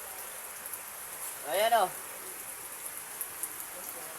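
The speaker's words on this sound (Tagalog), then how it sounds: "Ngayon, pagdating ko dito, ulan pa rin." Light rain falling in a steady, soft patter, with a short spoken phrase in the middle.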